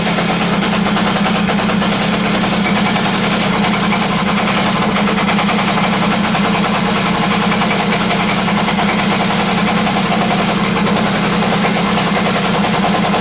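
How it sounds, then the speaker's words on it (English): A 1985 Yamaha PW80 motorcycle engine runs steadily after a kickstart, with a loud, continuous mid-low idle and a slight knocking vibration that holds unbroken for the whole stretch, with no voices. "First time starting it with a kickstart since I've had it running."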